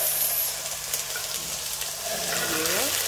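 Vegetable noodles frying in a pan with boiled fish, a steady hissing sizzle with some scraping and stirring sounds, a faint voice briefly in the background.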